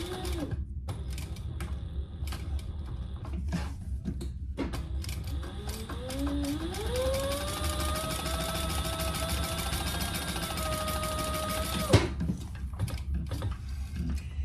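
Sewing machine fitted with a narrow foot stitching a curved handbag, a mechanical hum that starts, rises to a steady whirring run for several seconds, then stops abruptly, with clicks and rattles around it.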